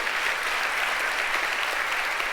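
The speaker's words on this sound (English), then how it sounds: "So give them a round of applause" A seminar audience gives a round of applause, an even, sustained burst of many hands clapping heard from within the room, without voices.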